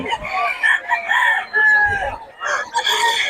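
A rooster crows loudly and nearby in Bocaue, several drawn-out calls in succession with short clucks between them, with no talking.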